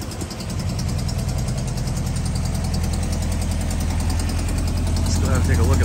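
A 1970 Volkswagen Beetle with 89k original miles and its original engine running, a loud steady air-cooled idle with a rhythmic low chug and vibration, close by, the sound continuing unbroken throughout.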